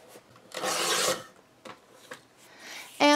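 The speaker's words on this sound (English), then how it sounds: "I'm going to bring out my paper cutter here." A paper cutter slices the trim piece off a sheet of paper, a loud rasping swipe of about half a second, followed by a few light clicks and rustles.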